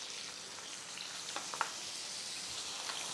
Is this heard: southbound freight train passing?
no